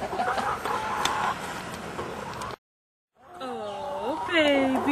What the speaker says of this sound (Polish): To są nasze kurczaki.